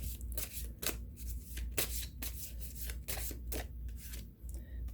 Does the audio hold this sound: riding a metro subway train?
no